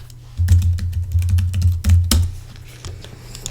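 Someone types a password on a computer keyboard: a quick run of close, crisp key clicks in an irregular burst, tapering off near the end.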